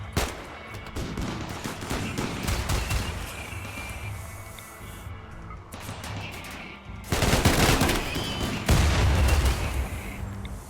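Shooters open fire in the colony game RimWorld: dense, rapid bursts of gunfire roll on almost without pause, growing heavier and more booming toward the end.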